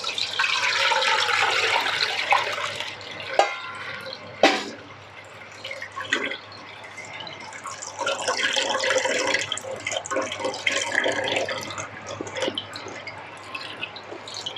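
Water trickles and splashes as squeezed tamarind pulp is drained in a kitchen, a soft running pour with a couple of sharper knocks midway.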